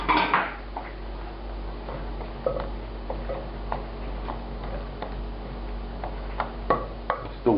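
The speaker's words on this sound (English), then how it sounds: "And now I'm going to add potatoes and carrot." Potatoes and carrot added to a pot of French-style pork daube braise: scattered dull knocks and light clinks of pieces and utensils against the pot, sparse and close, over a low steady hum.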